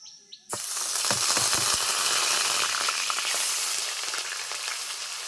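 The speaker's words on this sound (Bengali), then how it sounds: "এখন দিয়ে দিচ্ছি পেঁয়াজ বাটা" Onion paste hits hot oil in a pan for a chicken dish, bursting into a loud, steady sizzle that keeps hissing and crackling close up after a sudden start, with faint stirring and no talk.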